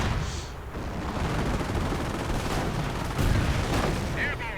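Counter-battery artillery fire against German artillery positions in a WWII strategy game, a dense rumbling barrage of booms and crackling blasts sustained throughout, with a voice talking over it.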